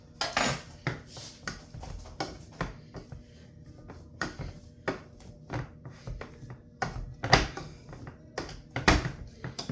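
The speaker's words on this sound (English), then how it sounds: "now we're going to give them just a quick little mash" Potatoes being mashed in a pot: a quick run of irregular metallic clanks and scraping knocks from the masher against the pot, close and fairly sharp, with no talking.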